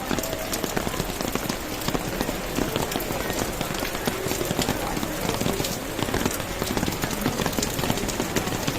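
Steady rain patters and splashes on surfaces throughout, a dense continuous wash with faint traffic or movement noise underneath, on the Pala–Kottayam road route to Manarcad near Kidangoor, Kerala.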